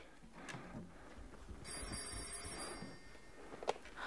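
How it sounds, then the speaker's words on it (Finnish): A telephone rings in a quiet rural parsonage setting, a faint electronic trill that sounds in short bursts against a low background hum, distant and alone without speech. "Ja puhelinkin vielä soi."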